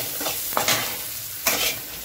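Small shallots stirred and sizzling in oil in a pan while lemon rice is cooked, with scraping spoon strokes over a steady fry hiss, close and fairly loud, no talking.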